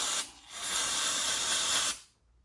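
Throttle body cleaner sprayed from an aerosol can onto a towel while servicing a 2007 Lexus LS460, one sustained, close, loud hiss lasting over a second, preceded by a brief short burst, then silence.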